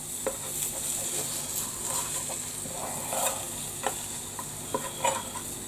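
Bacon sizzles in a frying pan with a constant bright hiss, broken by scattered clinks and scrapes as pieces are shifted about.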